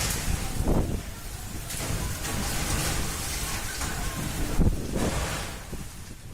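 Cyclone Amphan lashing West Bengal and Odisha in May 2020, a steady loud roar of wind-driven rain with stronger gusts surging now and then, no voices.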